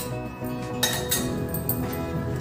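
A metal vessel and strainer clink and knock together as they are set up for straining jaggery water in a home kitchen, with several sharp, close metallic hits spread irregularly over a couple of seconds.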